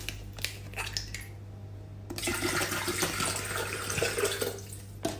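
Water poured into a small teapot to be heated, a steady splashing rush from a tap that starts after a few faint clicks and knocks and continues close and moderately loud, no talking.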